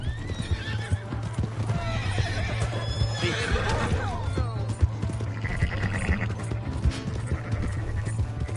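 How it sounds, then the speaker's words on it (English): A horse in the Red Dead Redemption 2 video game neighs and whinnies over a steady clip-clop of hooves, close and fairly loud, mixed with game ambience and faint voices. "Oh, wait, that's my horse!"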